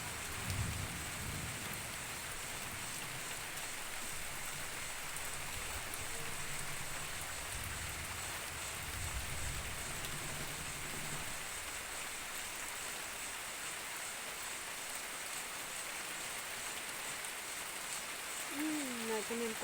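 Heavy rain pours steadily over a coffee garden, a continuous hissing wash of drops on leaves and surfaces with low rumbling early on, heard fairly close and unbroken for the whole stretch.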